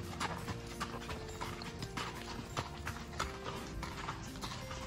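Horse hooves clip-clop on a desert trail near Apache Junction, Arizona, in a steady walking rhythm beneath faint wind and quiet background sound.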